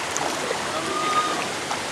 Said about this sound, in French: La petite rivière, normalement, il y a du courant,